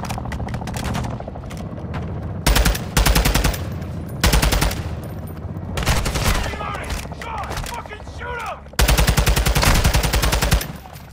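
Video game gunfire in Modern Warfare 2, with sustained loud bursts of rapid automatic shots repeating across the clip over a busy battle bed, and voices speaking in between.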